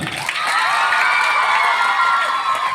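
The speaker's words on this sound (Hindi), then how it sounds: "एक बार जोरदार ताली" A loud crowd at a children's theatre play cheers and claps, with high shouts and whoops blending into a dense, continuous roar close to the listener.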